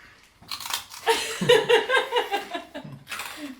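Someone bites and chews a piece of burnt toast left too long in the toaster, giving a run of close, loud crunches with a rough, rhythmic pattern and a brief voice at the end.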